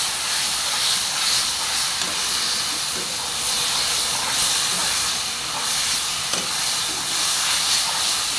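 Spice tempering hitting hot oil for a taro-leaf dish, a loud, dense, continuous hissing sizzle that holds steady throughout.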